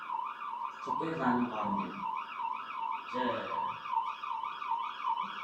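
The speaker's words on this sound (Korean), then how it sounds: "소방차구나" A fire truck siren wails, rising and falling continuously at moderate distance in a Korean neighborhood, while people talk briefly over it twice.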